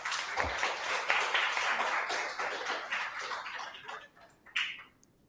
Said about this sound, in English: And that's another round of applause for Cody.